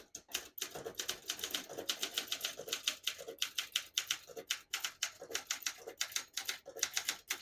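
A 1966 Olympia SM9 portable typewriter typing with a red ribbon, giving a quick, even run of crisp mechanical key strikes with short pauses, heard close up and alone.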